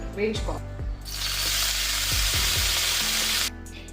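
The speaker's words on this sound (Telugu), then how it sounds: "ఆయిల్ కొంచెం హీట్ అయిన తర్వాత కడిగేసి పెట్టుకున్న బ్రోకలీ ఉంది కదా, దాన్ని వేసేసి కొంచెం వేయించుకోవాలి." Washed broccoli is tipped into hot oil in a pan and starts to sizzle loudly. A few clunks of stirring come first, then a steady hiss that holds before it drops off near the end.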